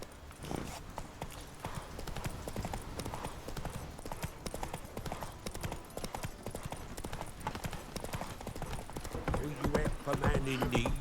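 Roach, Geralt's horse in The Witcher 3, trots with steady rhythmic hoof clip-clops throughout, mixed with game ambience and occasional voices speaking over the hoofbeats.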